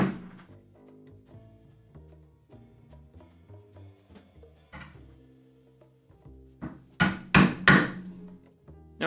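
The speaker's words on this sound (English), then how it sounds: "sometimes you can just really put your weight into the chisel, and that'll be enough to make the cut" A chisel driven by hand into wood while making a scrap-wood shelf, quiet scraping cuts followed by a few sharp, close knocks near the end.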